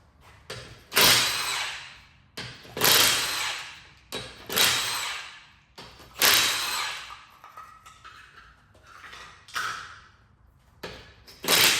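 A power tool, likely an impact wrench, removes a wheel from a Ford Transit Connect, firing about six loud, close, rattling bursts separated by short pauses, with no talking.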